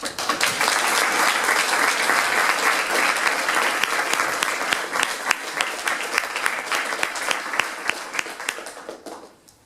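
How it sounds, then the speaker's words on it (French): Dense, sustained applause from a business club's general assembly audience, honoring a departed member, forms a full wash of many hands that thins into scattered distinct claps before fading out near the end. "Je voudrais qu'on l'applaudisse"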